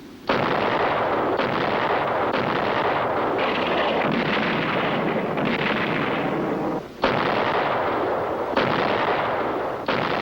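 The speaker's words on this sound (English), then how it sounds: "This is Naval Gunfire Support, a mobile source of big gun reinforcement for friendly troops ashore." Heavy naval guns on warships fire in a dense, continuous barrage, loud booming blasts rolling into one another with only brief gaps.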